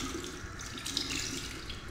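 A water tap runs steadily into a sink in the video game Fahrenheit, a continuous close splashing stream with no talk over it.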